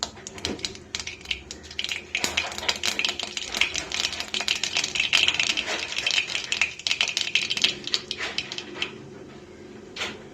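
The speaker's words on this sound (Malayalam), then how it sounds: "കടുക് പൊട്ടട്ടെ." Dense crackling and popping of mustard seeds in hot oil for Kerala-style masoor dal curry, rapid and continuous for several seconds, close by.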